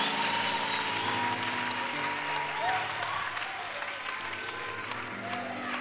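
A church congregation applauds steadily, a dense wash of clapping from many hands that carries on throughout, with some voices and faint background music beneath it.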